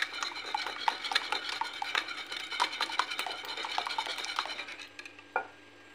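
Spoon stirring and mixing ingredients for Tunisian Bey bread in a bowl, with quick, repeated scraping and clinking strokes at a steady rhythm, close and fairly quiet, ending with a final tap.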